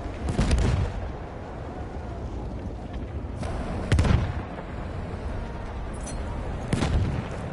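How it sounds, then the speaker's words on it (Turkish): Repeated bomb explosions in the video game Battlefield 1, several heavy booming blasts about every few seconds over a constant rumbling battlefield din, with faint voices underneath. "Bomba atıyor."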